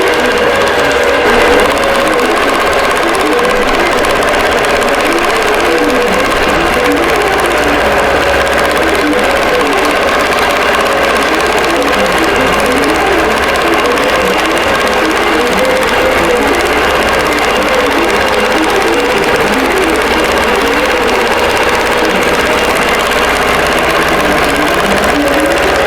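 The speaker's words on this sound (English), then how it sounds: "I'm going to go ahead and let this sew out" A quilting machine stitches out a wholecloth design in 40 weight Isacord thread, a steady mechanical hum with a fast rhythmic needle chatter running continuously and fairly loud for the whole stretch.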